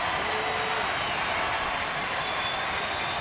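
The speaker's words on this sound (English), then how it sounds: "the crowd gets to its feet" Large baseball crowd at an Oakland A's home game against Kansas City, rising and cheering in the ninth inning, a dense roar of applause and cheering filling the whole stretch at steady, loud volume.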